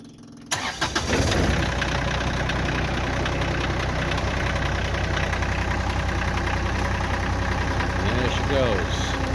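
Kioti tractor with a snow blower attachment, its diesel engine cranking and catching after a brief quiet moment, then settling into a loud, steady idle that stays close for the rest of the clip.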